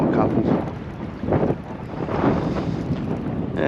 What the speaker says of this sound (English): a little bit of breeze there, like I said